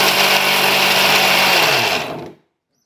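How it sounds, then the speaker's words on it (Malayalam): An electric mixer grinder whirs at full speed, grinding roasted ingredients for a Kerala curry paste. The whine is loud and steady, then winds down to silence after about two seconds. "നമുക്ക് ഈ എന്താണ് വറക്കാൻ വെച്ചിരിക്കുന്ന സാധനം അരച്ചെടുക്കാം"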